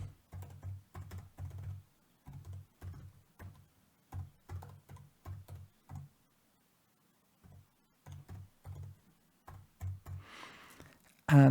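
An email address being typed on a computer keyboard, rapid clusters of soft close key clicks with short pauses between bursts, ending in a brief louder rustle.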